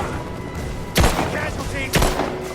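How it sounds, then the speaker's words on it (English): Two heavy gunshot bursts in Rise of the Tomb Raider, spaced about a second apart, loud and sharp over a steady background bed of game ambience. "Open fire! Under fire!"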